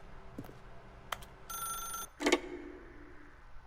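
A phone rings in the video game The Stanley Parable, with a few faint clicks, then a bright trilling ring of about half a second and a sharper, louder chime after it, all fairly quiet.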